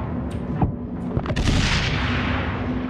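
Gunshots ring out in the video game Inside, with a few sharp cracks followed by a heavier booming blast and a lingering rumble.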